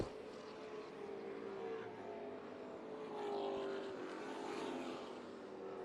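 Pro trucks race around Colorado National Speedway, their engines droning and swelling faintly from a distance in a steady mix, with a louder pass midway.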